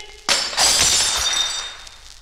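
Crockery smashes on a hard floor with a sudden loud crash, followed by a bright scatter of tinkling shards that fades over a second or two.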